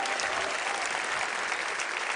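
Sustained, dense applause from a worship congregation at a church service, many hands clapping at once in an even, loud wash with no pauses.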